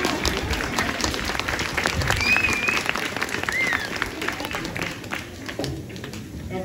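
Dense, steady applause from an audience at a carnival theatre play staged by the cultural association of Stypsi, loud and continuous with a murmur of voices and a brief whistle-like tone mixed in.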